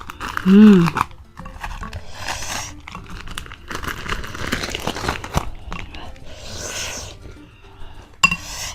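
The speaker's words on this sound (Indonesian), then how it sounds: "Pada kerupuk kulit biar tambah kriuk-kriuk." Crispy skin crackers (kerupuk kulit) crunch and crinkle as they are crushed into a spicy aci meatball soup with cikur, the brittle cracking running through the clip under continuous nearby talk.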